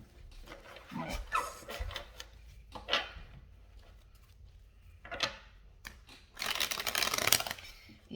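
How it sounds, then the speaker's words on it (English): Bursts of cards riffling and being squared up, several quick flurries separated by quiet pauses, close and crisp, ending in a longer loud shuffle. "I usually shuffle before I press record, and then I just shuffle once for you guys"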